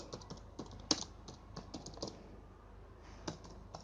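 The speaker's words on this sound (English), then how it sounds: "You can type some text in your document." Quick, light keystrokes tap on a computer keyboard while text is typed into an MS Word 2016 document, an irregular patter of close clicks with brief pauses and no voice.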